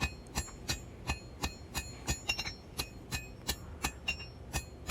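Repeated hammer strikes on hot steel while forging the point of a large knife, at a brisk, fairly even rhythm, each blow ringing sharply and close by.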